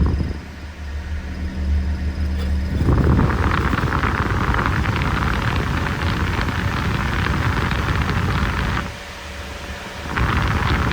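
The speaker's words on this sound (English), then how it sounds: "You'll hear the RPMs drop slightly when the compressor kicks on." A 1963 Ford Galaxie 500XL engine idles steadily, then a loud broadband roar kicks in as the AC compressor engages, briefly dips near the end, and resumes.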